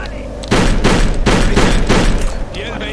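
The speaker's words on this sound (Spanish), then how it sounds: "¡Me están disparando!" Rapid bursts of gunfire rattle loud and close in the shooter game Kane & Lynch 2: Dog Days, a sustained volley of several seconds that fades into a quieter tail.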